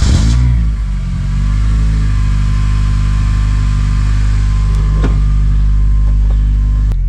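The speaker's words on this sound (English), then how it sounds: "It sounds more proper through the exhaust though. It sounds more toned." An Acura TSX engine with a DIY exhaust runs steadily and loud up close, a deep droning idle after a brief rev at the start, with no talking.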